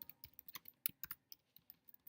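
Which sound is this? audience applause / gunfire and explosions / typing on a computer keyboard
typing on a computer keyboard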